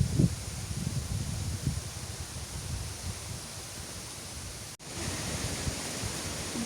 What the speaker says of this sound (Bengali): যে পরিমাণে বাতাস উঠছে আজকে যেমন রোদ তেমন বাতাস